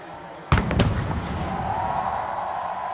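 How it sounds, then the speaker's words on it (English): A sharp, booming cannon blast followed quickly by a couple more bangs at a Texas A&M college football game, then a steady crowd roar that carries on underneath. "Cannons fire"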